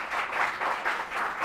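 Steady applause from a crowd, a dense wash of clapping that swells and dips slightly, with no voices over it.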